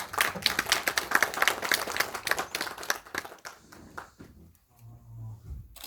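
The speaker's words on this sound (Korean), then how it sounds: "권성필 교수님한테 일단 박수 한번 부탁드리고요" Audience applause for a professor at a community forum, a few seconds of brisk, close clapping from a roomful of people that tapers off, followed by a faint voice and a low hum.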